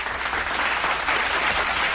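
A crowd applauds steadily for Sean Chiplock, a dense, even wash of clapping that holds for about two seconds with no pauses.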